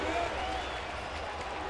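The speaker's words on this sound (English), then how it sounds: "Crowd on its feet." Baseball crowd at Safeco Field rising and cheering during a Baltimore at Seattle game, a dense roar of applause filling the short moment with a commentator speaking over it.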